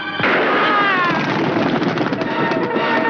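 One sharp pistol gunshot in a Hindi movie cracks out, followed by a long, noisy rumble that fades slowly.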